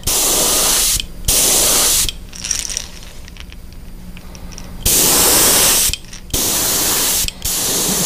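Darker green paint is sprayed onto a fishing lure in a series of loud, close, steady hissing bursts. The bursts are separated by short quiet gaps filled with faint clicks and handling noises.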